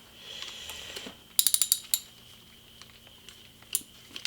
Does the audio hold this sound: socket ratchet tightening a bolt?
yes